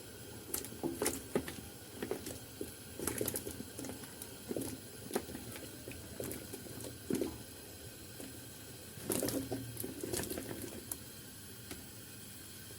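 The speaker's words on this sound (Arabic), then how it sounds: "هلا راح ننزل حبات السفرجل بعد ما صفيناهم من المي بالشكل هذا" Drained quince pieces drop into a simmering pot, giving repeated wet squishes and plops over a steady low bubbling, with no one speaking.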